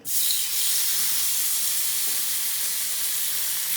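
Meat seared on a very hot griddle pan gives a loud, steady sizzle and hiss that starts abruptly and holds without a break, close and with no talking.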